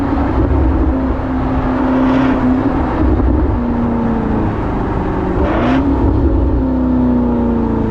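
A Range Rover Sport SV fitted with a QuickSilver sport exhaust drones loudly at steady high revs in a low gear, the note dipping and swelling as the throttle shifts, heard continuously up close.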